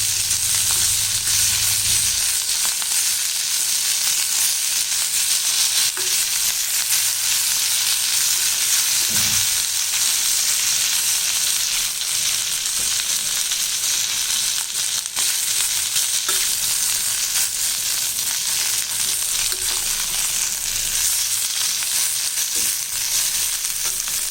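Thoothuvalai leaves sautéed in a pan for a chutney, a steady loud hissing sizzle that runs unbroken, with a few faint stirring knocks.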